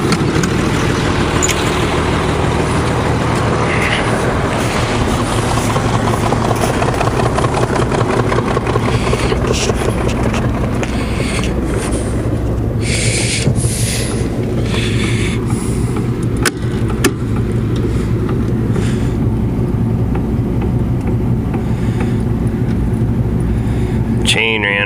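A new farm spreader runs empty in a yard, its engine or drive making a steady, loud mechanical drone throughout with rattling and clanking on top, and a voice speaking over it.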